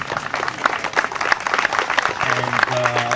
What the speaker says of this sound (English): Can we give a round of applause to the great work they do?